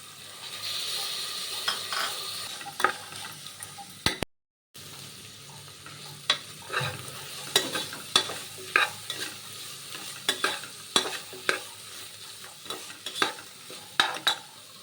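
Boiled peas are stirred and fried in a pan while making pulao, a soft sizzle under repeated scraping and clacking spoon strokes against the pan, close by, with a brief gap partway through.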